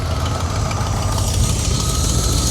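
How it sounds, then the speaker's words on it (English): A Ford AU XR8 V8 idles close by with a leaking exhaust manifold, a steady low rumble with a faint ticking chuff running through it and no voices. "I have got a leak from the exhaust manifold."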